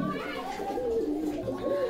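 A pigeon coos softly in low, rolling tones nearby, while people talk over it and children's voices carry in the background.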